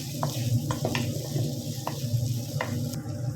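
Onion and garlic frying in a pan, a steady low sizzle with light spoon scrapes and stirring clicks recurring every half second or so, close by and fairly quiet throughout.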